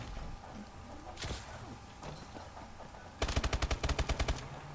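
Rapid SM1 submachine gun bursts in the Advanced Warfare shooter, a tight run of about a dozen loud evenly spaced shots near the end, preceded by quieter game ambience and a couple of isolated bangs.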